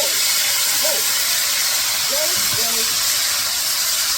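Asparagus hits a hot pan and sizzles with a loud, steady, close hiss that runs throughout, while a voice talks faintly beneath it.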